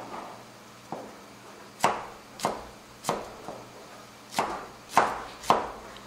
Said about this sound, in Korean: 그래서 이렇게 청양고추도 어슷 썰어 주시면 됩니다.